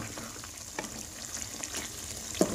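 Beef keema with black pepper is stirred in a karahi, giving a soft, continuous sizzle with scattered light scraping and clinks of the spoon against the pan, close and fairly quiet.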